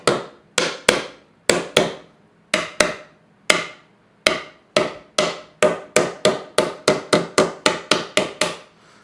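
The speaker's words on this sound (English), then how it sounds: "here I'm pretty far down just from hammering with my hand" Dovetail joint of a wooden drawer box being struck together by hand, a series of about twenty sharp, close thumping knocks, spaced irregularly at first and then coming faster in a steady run.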